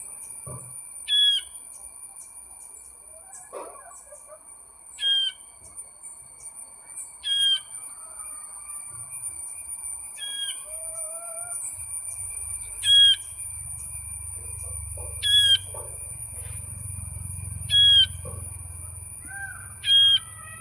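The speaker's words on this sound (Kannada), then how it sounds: "ಚಿಕ್ಕದಾದ ಪಕ್ಷಿ ಮರಿ ನೋಡಿ ಗುಬ್ಬಿ ಮರಿ ಅಂತ ಹೇಳ್ತಾರಲ್ಲ ಅದು ನೋಡಿ ಇದರ ಸೌಂಡ್ ನೋಡಿ" Baby sparrow chick calling, sharp high chirps repeating at intervals of about two to three seconds, fairly close and clear over a quiet background with a faint low rumble toward the end.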